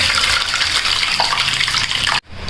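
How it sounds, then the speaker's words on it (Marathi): A steady gush of water pouring and draining from soaked sago, loud and close, cutting off abruptly near the end. "त्यामुळं त्यातलं पाणी काढून घ्यायचं आणि साबुदाणा वेगळा करायचा"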